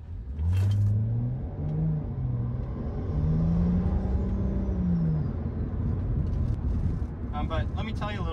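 A Stage 2 JB4-tuned E90 BMW 335i with near-full bolt-ons cruising, its steady low engine rumble and road noise continuous throughout, with someone talking over it.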